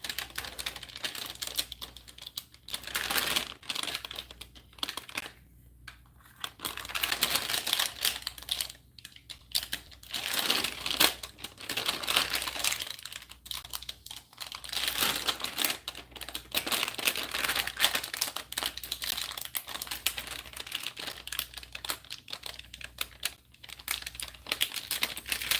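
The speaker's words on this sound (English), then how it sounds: "And then I'm going to slowly peel it back." Craft vinyl is peeled slowly back off its backing sheet, making a long run of crackling, crinkly rustles that rise and fall in close, intermittent bursts.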